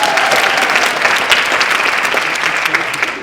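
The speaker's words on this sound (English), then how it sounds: "Please give yourselves a round of applause." A room of attendees at an improv workshop gives loud, dense applause that stays even and sustained through the whole moment, a close, full wash of many hands clapping.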